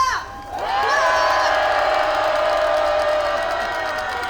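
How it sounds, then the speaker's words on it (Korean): A rally crowd of workers and citizens in Ulsan roars with sustained shouting and cheering, a loud, dense wall of voices that swells after a brief lull and holds steady to the end. "힘찬 함성 질러보겠습니다"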